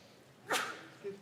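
A single quick sneeze rings out in a quiet legislative chamber, moderately distant and sharp, against a low background hum, followed by a faint short voiced sound.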